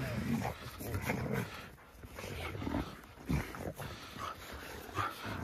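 Dogs growl, grumble and whimper in short bursts close by, with scuffling noises between the vocal sounds.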